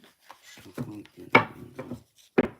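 Tarot cards riffle and rub together in short bursts, a few quick shuffles close by with brief pauses between them.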